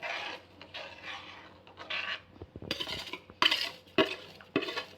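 Semolina (rava) is stirred into boiling water in a pan on a low flame for restaurant-style upma, with repeated scraping and clinking strokes of a spoon against the metal pan, close and uneven, growing sharper toward the end.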